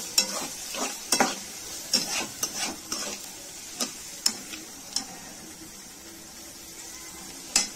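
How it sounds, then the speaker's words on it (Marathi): Onion and tomato cooking in a pan give a soft sizzle beneath repeated sharp clicks and scrapes of a spoon stirring against the metal, spaced irregularly throughout. "कांदा आपला फ्राय झालेला आहे। त्याच्यामध्ये आपण टोमॅटो टाकलेला आहे।"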